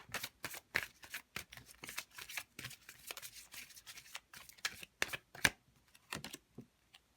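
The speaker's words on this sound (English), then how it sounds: "let me grab a final oracle card for you here" Oracle cards being shuffled and drawn from a deck, a quick series of crisp riffling and slapping bursts in uneven rhythm, close and fairly quiet, with no talking.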